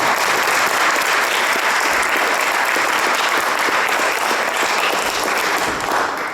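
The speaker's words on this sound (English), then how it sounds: "if I can ask you for a round of applause for the guys from Radio Grapevine" Sustained, dense applause from a large indoor audience at a lunch event in a cloister venue, clapping steadily and loudly throughout with no pause.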